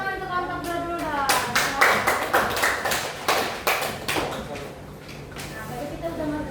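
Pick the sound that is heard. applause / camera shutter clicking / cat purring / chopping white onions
applause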